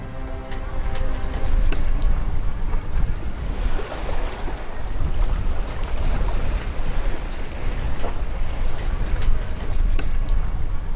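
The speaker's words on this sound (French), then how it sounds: "Il y a un super beau petit vent, on est travers portant" Steady wind rushing over the water while sailing a broad reach across the Mayotte lagoon, with waves washing against the hull, loud and continuous throughout with gusty microphone buffeting and no talking.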